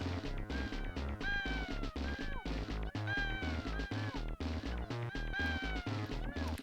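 Squealing, cat-like meows from lemmings in the Lemmings video game recur every second or so over a loud, rhythmic game soundtrack.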